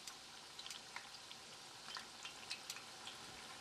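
Onion bhajias frying and browning in hot oil, a steady close sizzle with scattered small pops and crackles throughout, no voices.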